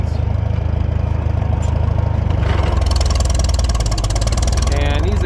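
A Farmall M tractor engine runs steadily in winter, a loud, continuous low chugging drone close by, with occasional background noise over it.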